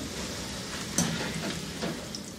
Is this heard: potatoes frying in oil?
yes